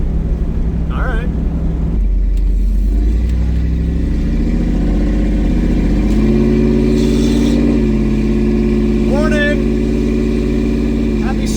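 A Ford SVT Lightning pickup with a fully custom exhaust rumbles loudly and then accelerates, its engine note climbing in steady pulls, with brief speech over the engine.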